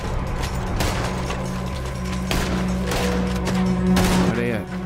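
Gunfire from the video game Red Dead Redemption II, sharp scattered shots and mechanical clicks over a constant low engine-like hum, with a voice speaking underneath.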